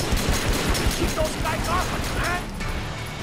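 Rapid bursts of gunfire crackle in quick succession, a busy firefight in the video game TriadWars that thins out toward the end.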